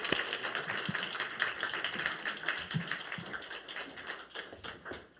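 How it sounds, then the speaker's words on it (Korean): A church congregation claps for a visiting missionary, a dense run of sharp handclaps that swells and then tapers off toward the end, with no voices over it. "자, 평소 안 하던 하지 말고 크게 박수하도록 하겠습니다."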